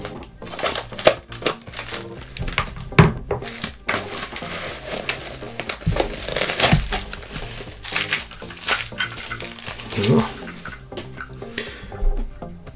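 Scissors snip and plastic packaging crinkles up close, irregular crunchy cuts and rustles with short pauses between them.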